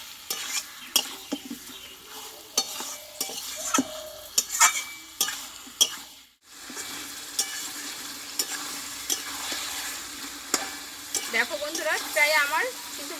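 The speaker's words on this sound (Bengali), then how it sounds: "আলু কিছুক্ষণ আমি কষিয়ে নেব আলু আর মটনটা একসঙ্গে" Potatoes and mutton are stirred and fried together in a pan for a Bengali mutton curry, a steady sizzle punctuated by repeated spatula scrapes and clinks, with a brief pause midway and a voice near the end.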